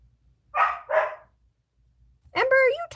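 A puppy indoors gives two sharp, close barks in quick succession, followed after a brief pause by a person talking.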